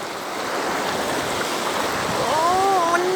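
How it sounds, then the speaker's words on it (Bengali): Strong stream current rushing and churning, a loud continuous wash of water close by with a faint tonal whistle near the end. "ও অনেক স্রোত।"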